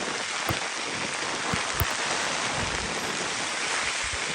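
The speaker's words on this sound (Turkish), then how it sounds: "Ulan ne yağmur yağdı be." Heavy rain pours steadily during an e-scooter ride through traffic, a dense constant wash of water spray and wind noise with a few scattered drop hits, loud and continuous with no voices.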